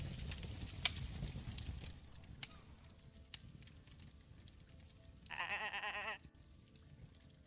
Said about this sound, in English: Ooh, look at all the sheep.